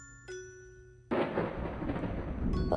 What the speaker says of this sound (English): I think I heard thunder.